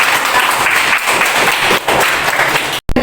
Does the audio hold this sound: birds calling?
no